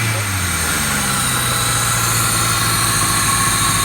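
A 1997 Toyota Camry engine runs steadily at a fast idle, a loud, even drone with a low throbbing hum and buzzing overtones that holds through the whole stretch, close by and without talk.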